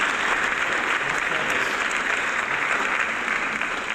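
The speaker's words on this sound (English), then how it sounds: "Binary Chef is sending thunderous applause" A loud, sustained applause sound effect of a crowd, dense clapping at an even level throughout with no break.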